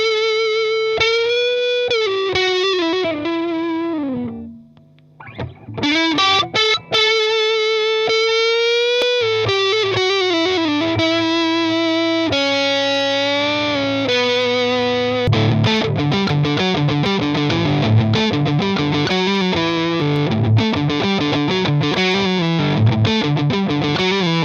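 An electric guitar plays through a Red Mist MKIV distortion pedal, then with an Antares overdrive kicked in, giving sustained, saturated notes and chords with a brief pause near the start and a thicker, denser tone later.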